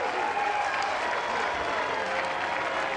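College baseball crowd at a Rider versus Cal State Fullerton game applauding as it rises to its feet, a loud, dense, sustained wash of clapping and cheering with no pauses.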